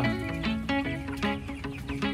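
45-day-old chickens cluck continuously nearby, several overlapping clucks in a quick, uneven rhythm.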